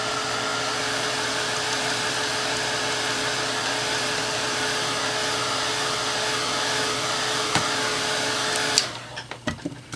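Hair dryer drying acrylic paint on a canvas, a steady loud whirring blow that runs close and unbroken for most of the clip, then cuts off into a few faint clicks and knocks.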